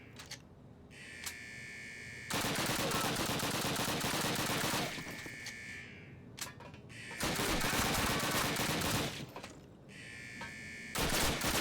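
Rapid automatic gunfire rattles in several long sustained bursts with short gaps, loud and close, in the game Call of Duty (2003).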